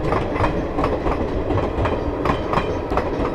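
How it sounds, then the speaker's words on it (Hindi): A Garib Rath express train overtakes on the adjacent track, giving a loud continuous rumble with rhythmic clickety-clack wheel beats close by, with no talk. "एक गरीबरथ जो है वो ओवरटेक कर गई, बिल्कुल हमारे पीछे थी ये"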